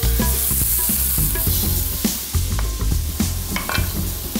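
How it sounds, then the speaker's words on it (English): Onions frying in oil with cumin seeds, bay leaf and curry leaves, a loud close sizzle broken by repeated clattering stir strokes, with music playing faintly underneath. "Next, in goes the onions."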